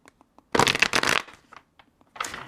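Tarot cards being shuffled by hand close up: a brisk riffle lasting under a second, followed by a few soft taps and another short shuffle.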